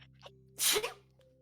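One sharp sneeze bursts out from a nearby person during a quiet talk-show moment, with a short intake before it and a faint low hum underneath.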